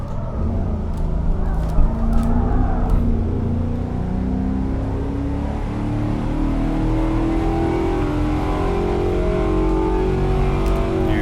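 Spec P71 race car engine in Assetto Corsa, a loud continuous engine note rising and falling as the automatic gearbox shifts up into overdrive and back down to third.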